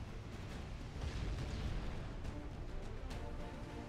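A torpedo launcher on a warship blown apart in the naval battle game Ultimate Admiral Dreadnoughts, heard as a low rumbling explosion amid continuous distant booming gunfire and battle din.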